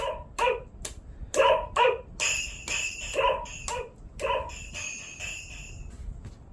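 A small dog barks repeatedly in short sharp yips, close by, with brief pauses between bursts and a few whiny higher calls.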